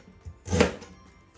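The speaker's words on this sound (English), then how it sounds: "After peel my ginger, I'm gonna chop it to slices." A knife chopping peeled ginger into slices on a cutting board: a single short, close chop standing out in a quiet kitchen, with faint softer taps around it.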